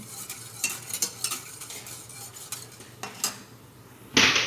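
Scraping and clinking of a utensil stirring a gulaman (gelatin dessert) mixture in a pot nearing a boil, in irregular strokes, with a louder hissing burst near the end.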